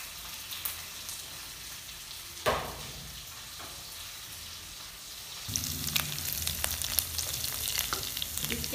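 Finely chopped green chilies frying in a pan for Punjabi sarson ka saag, a steady crackling sizzle with a few scraping stirs, turning louder and busier halfway through as more goes into the hot oil.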